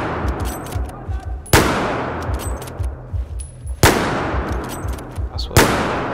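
Gunfire rings out in the video game Battlefield 4, with three sharp, loud shots spaced a couple of seconds apart over busy background battle noise and rumble.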